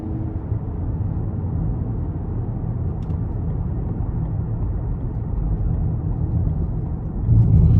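A 2021 Lincoln Corsair Reserve small SUV in Excite driving mode gives a steady, low engine and road rumble from inside the cabin, rising slightly louder in the last moment.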